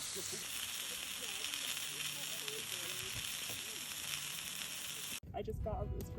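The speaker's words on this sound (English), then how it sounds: "I grilled up some tasty veggies and New York strip steak on the Tembo." New York strip steak and vegetables sizzle on a Tembo grill, a steady dense frying hiss held close for about five seconds before cutting off abruptly into quieter background noise.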